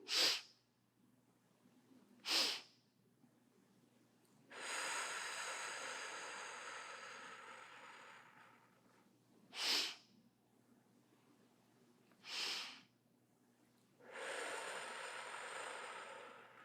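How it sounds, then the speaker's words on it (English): Slow, controlled breaths for calming a panic attack: short sharp nasal intakes alternate with long, steady gentle exhales lasting several seconds, close and alone, repeating in an even rhythm. "blow it out gently"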